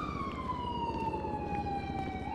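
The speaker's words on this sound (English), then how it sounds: "that was definitely my siren." A police siren in Grand Theft Auto V with the LSPDFR mod wails steadily, its high tone sliding slowly downward, with faint low rumbling underneath and no talking.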